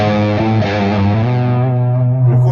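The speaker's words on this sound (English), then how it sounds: "That's just the tone of the Lone Star itself with the echo and the loop." Electric guitar played through a Lone Star amp with echo and a looper, no pedals in front, at low studio volume; a few sustained chords with warm distortion, repeating echoes and a trailing decay, loud and close.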